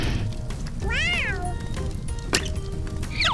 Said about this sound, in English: The kitten was shivering from the cold.